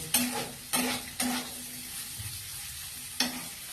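Boiled potatoes fry with curry leaves and mustard seeds for a South Indian poriyal, and four sharp stirring scrapes cut through a close, steady sizzle.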